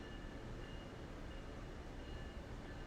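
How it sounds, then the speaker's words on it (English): Far-off train heard from inside a quiet room, a faint, continuous low rumble that holds steady without any distinct horn or clatter. "I hear a train."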